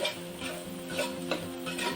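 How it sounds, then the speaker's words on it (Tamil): Masala for a hotel-style vegetable kurma is sautéed and stirred in a pan, giving a continuous soft sizzle broken by several scraping strokes of a spoon, close up and without voices. "மசாலாவோட பச்சை வாசனை போக வரைக்கும் நல்லா வதக்கிக்குங்க."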